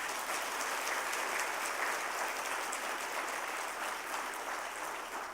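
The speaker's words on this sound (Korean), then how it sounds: "멋있으면 박수 한번 해주시기 바랍니다." A church congregation at a Wednesday worship service claps together in steady, loud applause that fills the hall throughout, with no voices over it.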